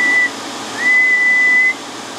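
A steady whistled tone into a microphone on a ham radio transmitter with a 4CX250B tube amplifier, held briefly, a short pause, then a longer sustained whistle at the same pitch, close and clear over a hissy background.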